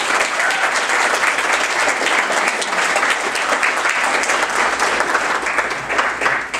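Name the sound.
audience applause at choir banquet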